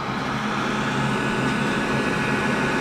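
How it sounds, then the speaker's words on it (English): A hairdryer blows steady, loud rushing air through a pipe into a forge, continuous with no change in level. "the forge works with a pipe running from the hairdryer"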